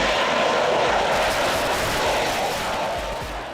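A heavy jet airplane weighing over 75,000 pounds that takes off and lands vertically like a helicopter gives a loud, steady, broadband engine roar that stays constant and close throughout.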